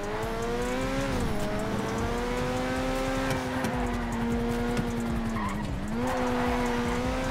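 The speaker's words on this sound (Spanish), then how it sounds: "Voy a guardar silencio para que escuchen ese bello motor." Brian O'Conner's Toyota Supra from Fast and Furious roars through an illegal street race in a racing video game. The sustained engine drone dips in pitch at gear shifts, with no talking over it.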